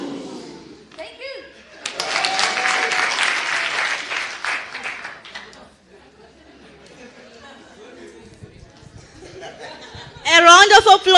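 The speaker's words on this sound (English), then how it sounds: "A round of applause once again." A community audience breaks into bursts of clapping, chatter and chuckles, with a loud burst of applause early and a sharper one at the end, quieter murmuring between.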